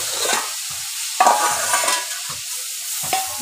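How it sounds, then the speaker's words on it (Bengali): Bottle gourd sizzles as it fries in a pan, with repeated scraping stirs of a spatula over the steady crackle, close and alone without voices. "লাউ ভাজি হচ্ছে"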